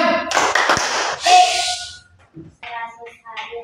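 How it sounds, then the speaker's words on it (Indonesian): A primary-school class performs the 'tepuk diam' clapping chant, with bursts of rhythmic hand claps mixed with children's voices, followed by brief chanting and a pause. "Tepuk diam."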